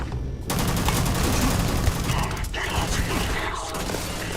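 Rapid automatic gunfire from a 25-round weapon in the space game Starfield, a dense, loud, continuous rattling burst mixed with mechanical clatter, running steadily for several seconds.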